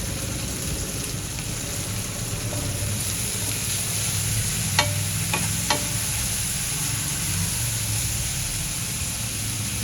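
Onion sautéing with salt in a pan while cooking a French bean dish: a steady broadband sizzle runs throughout, with a few short utensil taps near the middle and no voices.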